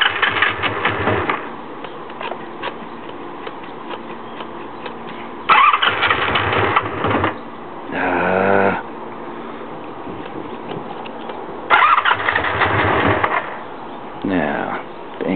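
Magna V65 motorcycle engine cranking through a very hard start with the choke on, long stretches of loud starter grinding and sputtering that repeatedly stop and resume, the engine catching only briefly.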